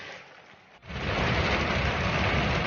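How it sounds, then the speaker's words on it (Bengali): Heavy rain pours down steadily, a quieter start giving way abruptly to a loud, dense, continuous roar of downpour close by, with no voices. "বৃষ্টিটা বেশ জোর চালু হয়ে গেছে"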